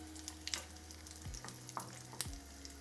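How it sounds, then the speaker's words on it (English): Cumin seeds, dried chili and asafoetida sizzling in hot oil for a tadka dal, a faint steady fry with small crackles and sputtering pops, close but quiet. "And you just want that cumin to sputter up"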